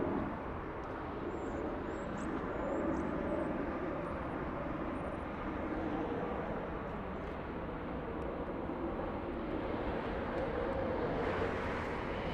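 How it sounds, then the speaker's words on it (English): A JetBlue jet arriving from Newark at Los Angeles International Airport makes a steady, distant rumble of engine noise that holds at a moderate level throughout, with faint chirps above it. "Next arrival, we have JetBlue, this one flying in from Newark."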